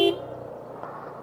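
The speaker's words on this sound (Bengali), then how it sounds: "হর্ন দিতে দিতে আসেন।" A car horn sounds one short, sharp toot at the very start while descending a steep, broken mountain road from Bogalake to Ruma, followed by a low hum of the vehicle rolling on.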